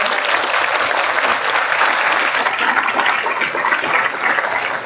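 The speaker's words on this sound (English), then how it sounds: "give them an encouraging hand of applause" Audience at a Rotary club meeting applauding contestants, a steady, dense wash of clapping from many hands that fills the room evenly and continuously from start to finish.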